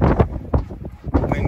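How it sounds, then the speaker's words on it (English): Gusty wind buffeting the microphone beside a wind turbine, irregular low roaring blasts rising and falling in bursts, loud and close. "wind gusts sometimes are jumping into the 20s"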